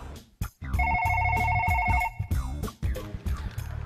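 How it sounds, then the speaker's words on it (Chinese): A telephone ringing inside a phone booth, with a sustained electronic ring lasting over a second. Muffled thumps and background chatter surround it, and voices follow. "电话亭后面去啊，看看我们的电话响没响。"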